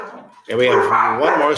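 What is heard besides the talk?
dogs barking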